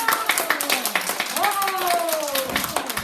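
Children clap for their friends in a school gym, quick scattered hand claps mixed with excited young voices and chatter close by.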